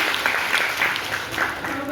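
Enthusiastic applause from a college audience at a Hindi Day event welcoming a speech competition participant, steady dense clapping throughout at moderate loudness.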